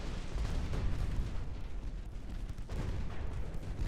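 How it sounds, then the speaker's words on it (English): A torpedo slams into the battleship Indiana in a naval video game, a dense rumbling blast with sustained low roar and crackling debris, loud and close, with no voices over it. "There's a torpedo headed for Indiana. Indiana just took a nasty hit."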